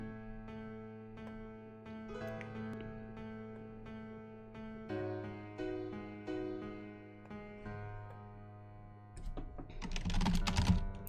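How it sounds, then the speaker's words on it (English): Loud, rapid computer keyboard typing in uneven bursts, clattering close up over a steady low hum, growing busier and louder toward the end. "So you're going to get some keyboard sounds."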